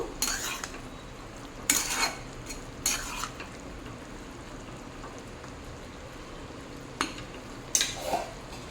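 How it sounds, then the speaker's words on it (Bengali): Fried neem leaves being stirred into drumsticks and brinjal in a pan over a low flame, heard as a few scattered scraping and clinking spatula strokes against the pan over a soft, steady background hiss. "ফ্লেমটা কিন্তু লোতেই আছে, ভালো করে মিশিয়ে দেব।"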